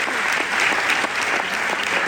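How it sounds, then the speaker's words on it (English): Guests at a children's cancer centre 60th anniversary celebration dinner clap in a brief, brisk round of applause, a dense patter of many hands, fairly close. "give yourself a round of applause for 60 years"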